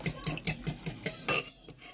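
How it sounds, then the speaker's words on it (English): A fork beats eggs seasoned with black pepper in a bowl, giving a quick, steady run of close clinks against the dish, about five strokes a second, that end in a sharper knock. "So I've got my eggs, put some black pepper in, and I'm giving them a whisk up"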